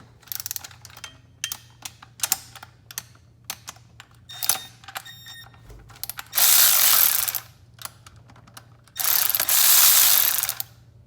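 A ratchet clicks in quick bursts while backing out two 12mm bolts from an SR20DET timing chain tensioner guide, with sharp close pawl ticks alternating with two longer, louder stretches of rapid ratcheting.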